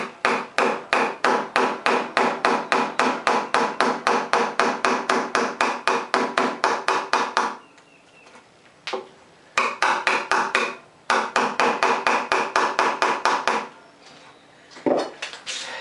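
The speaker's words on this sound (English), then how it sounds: "I would just want to follow that and overlap the chisel on that last cut" A mallet drives a chisel into a wooden stool seat being carved out by hand, with a rapid, even run of sharp close knocks, a brief pause, then further short bursts of blows.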